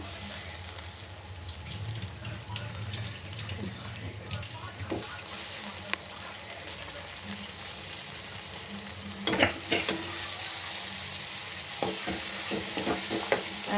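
Tomatoes frying and being stirred in a pan while making capsicum (Shimla mirch) sabji, a steady close sizzle with scraping stirs and a few sharper clinks near the end.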